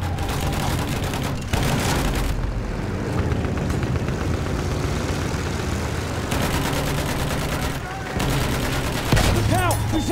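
Sustained machine gun fire bursts in a Battlefield 1 hardcore match, loud and dense, broken by short pauses and mixed with distant explosions and battlefield noise.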